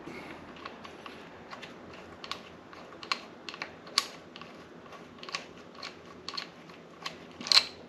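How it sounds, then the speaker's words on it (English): A hex key works handlebar screws loose on a Blutron MB550 during assembly, producing faint, irregular metallic clicks and small taps, with a few sharper clacks. "So I'm going to use this tool, this hex key, and pull all the screws out."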